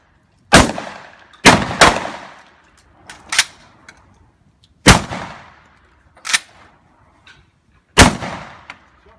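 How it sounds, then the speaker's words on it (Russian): A BKS-12M pump-action shotgun is fired one-handed, four loud sharp blasts spaced a few seconds apart, each followed by the clack of the action being cycled. "делаешь выстрел, опять передергиваешь, делаешь выстрел."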